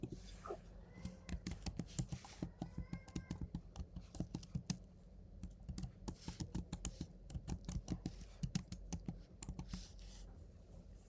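Typing on a computer keyboard, close and clear, in rapid irregular bursts of crisp key clicks with short pauses between runs.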